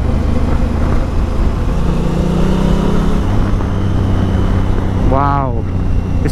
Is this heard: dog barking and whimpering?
no